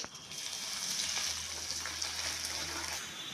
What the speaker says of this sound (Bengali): এবার আমি রসুন বাটা আদা বাটা দিয়ে দেবো।